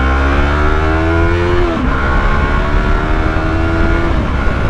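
A Yamaha R3 motorcycle engine accelerating hard on a freeway, loud and steady, its rising whine dropping briefly at a gear shift before climbing again, with constant wind and road roar and no talk.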